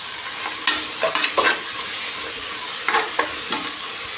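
Ginger garlic paste fries in hot oil in a pan, a steady close sizzle broken by several short scraping stirs of a spoon.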